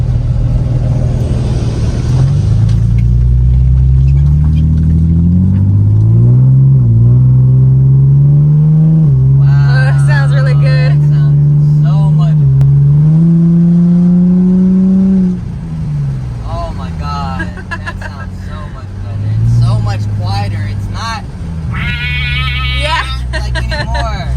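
A Nissan 350Z with a larger aftermarket exhaust revs repeatedly with a deep, hollow exhaust note, rising and falling in pitch, while people talk over it nearby.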